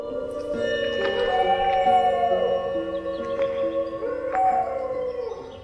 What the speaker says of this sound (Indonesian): kami dikejutkan dengan sekelompok anjing liar yang menggonggong